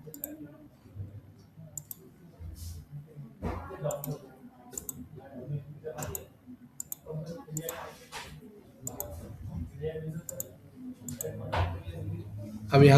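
A computer mouse clicks repeatedly while someone sets up an e-commerce site, with short sharp clicks scattered through the clip under steady talking.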